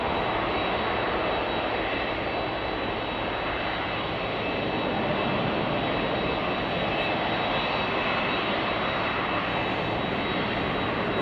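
Boeing jet airliner engines roar at Chicago O'Hare Airport, a steady, loud, broadband rumble that holds evenly for about eleven seconds with no voices over it.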